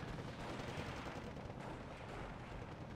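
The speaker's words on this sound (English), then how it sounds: "60mm mortar going." A 60mm mortar firing in the video game Steel Division 2, dense rumbling booms and crackling gunfire rolling continuously at low volume, with no talk.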